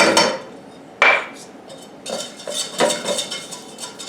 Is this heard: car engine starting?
no